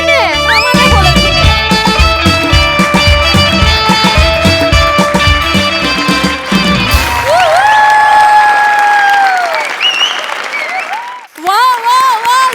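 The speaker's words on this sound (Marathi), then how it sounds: "जोरदार टाळ्या" Audience applause and cheering after a lavani dance performance on a Marathi comedy stage show, rising over loud rhythmic drum-driven music, then continuing beneath excited voices.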